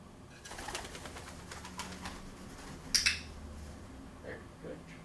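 A pet bird gives a few soft, cooing calls against a low room hum, with a sharper burst of sound near the middle, a faint voice, and one or two quiet sounds toward the end.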